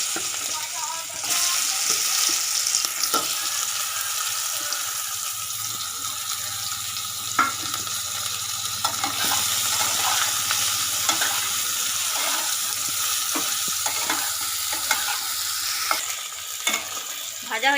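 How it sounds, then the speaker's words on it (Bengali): Pointed gourd (potol) fries in hot oil in a wok, a steady, loud sizzle that runs throughout, broken by occasional clinks and scrapes of stirring. "তেল গরম হয়ে গেছে, এবারে পটলগুলো দিয়ে দিচ্ছি।"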